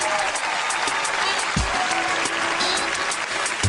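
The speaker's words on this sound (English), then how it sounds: "Give it up for Dana, y'all." An audience claps steadily throughout, a dense wash of applause with a few scattered shouts and background noise.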